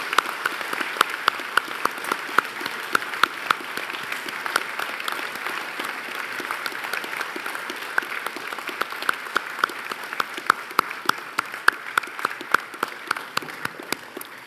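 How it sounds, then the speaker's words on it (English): Sustained applause from a large audience for graduates at a university graduation ceremony in Newcastle, Australia, dense steady clapping with sharp individual claps standing out, continuing for the whole stretch without talk. "I wonder if the audience would join me while they're on their feet in applauding the wonderful"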